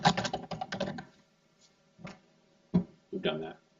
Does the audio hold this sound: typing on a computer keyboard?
yes